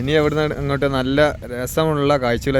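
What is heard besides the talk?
No distinct noise like a dog, phone or traffic.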